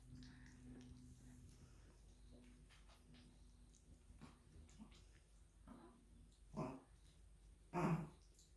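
Four-week-old Chihuahua puppies at play give off quiet snuffles and faint little whimpers, then two short louder yips near the end, all over low background hiss.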